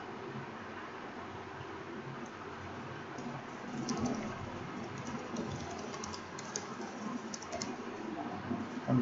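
Soft, steady clatter of a computer keyboard as code for a core PHP student management project is typed, with faint rapid keystrokes running throughout and no talk.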